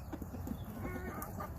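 Backyard chickens cluck softly and intermittently, faint and close, in a brief quiet moment without speech.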